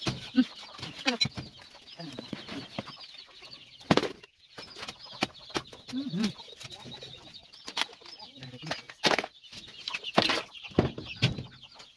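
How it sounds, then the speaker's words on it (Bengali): Six large native chickens on a small farm cluck and coo in scattered bursts, with sharp flaps of wings breaking in nearby between quieter moments. "এখানে কিছু মুরগি আছে, এখানে 6টা মুরগি আছে, দেশি মুরগি দেখতেছি অনেক বড় বড় হয়ে গেছে।"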